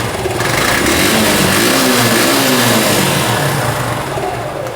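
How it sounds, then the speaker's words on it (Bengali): A 2020 Suzuki Gixxer SF DD motorcycle engine runs loud and close, with a continuous throaty drone that swells with revving. "এবার চেষ্টা করব বাইকটা স্টার্ট করে আপনাদেরকে সাউন্ড শোনানোর।"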